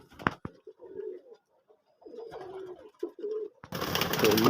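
A pigeon coos softly several times in short low bursts with pauses while being let go, followed by a sudden loud rush of noise like flapping wings near the end.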